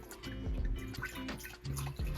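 One liter of water is poured into a saucepan while making coffee jelly, giving a close, steady splashing and trickling with uneven surges and no talk.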